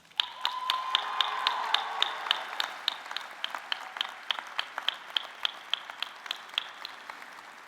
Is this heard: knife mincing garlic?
no